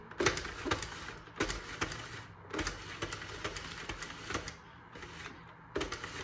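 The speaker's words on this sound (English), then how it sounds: "then you're gonna start cranking back around in the opposite direction" A Sentro plastic knitting machine is cranked by hand while knitting pants, giving a close run of rapid clattering clicks in bursts separated by short pauses.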